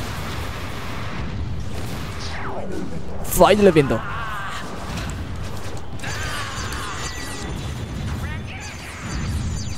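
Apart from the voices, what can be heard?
explosions in a video game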